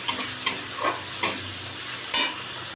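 Pieces of fish frying in a pan with onion, green chilli and tomato, a steady close sizzle broken by a few sharp clinks and scrapes as the pieces go in one at a time.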